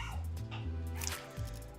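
A dog barks in the room during a Limbus Company gameplay session. A short yap or two rises briefly over steady, droning game music.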